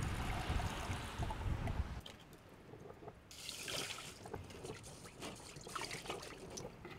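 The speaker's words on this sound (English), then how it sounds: "So now I'll add my correct amount of water." Water is poured into a pot of soaking rice for a Korean beef bulgogi rice bowl, a close rushing splash at first, then quieter trickling and sloshing as the liquid settles.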